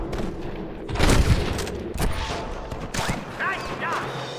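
Gunfire in the Western video game Red Dead Redemption 2, loud shots and a burst of firing around the one-second mark, with further sharp reports later, mixed with game voices and ambient sound.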